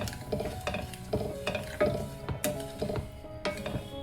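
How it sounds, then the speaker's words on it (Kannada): Sugar and water melting in a pan over a medium flame, with a steady sizzle and bubbling broken by repeated scraping and stirring clinks of a spoon against the metal pan. "ನೋಡಿ ಇದನ್ನು ಮೀಡಿಯಮ್ ಫ್ಲೇಮಲ್ಲಿ ಇಟ್ಕೊಂಡು ಕರಗಿಸ್ಕೋಬೇಕು"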